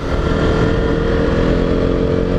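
A KTM Duke 125 single-cylinder motorcycle engine revs loud and close, a dense steady throbbing roar pulling hard as it accelerates.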